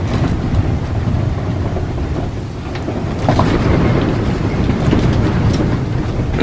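Strong wind battering a campsite on an exposed coast during a storm, a loud continuous roar with gusting buffets and heavy rumble against the microphone, no voices.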